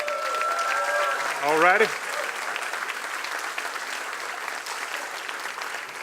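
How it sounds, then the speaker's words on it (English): Crowd applause at a sports association's awards fish fry, a steady wash of clapping that eases slightly after a short spoken phrase and a rising whistle-like tone near the start. "let's give a big round of applause for Miss Lydia Turner, the Taylor Haugen Trophy winner"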